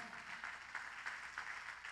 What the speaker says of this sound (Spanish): ¿Le puede regalar palmas al Señor?